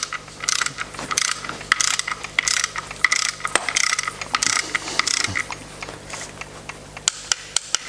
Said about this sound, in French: on va faire prendre le boulon. Alors celui-là vous pouvez le serrer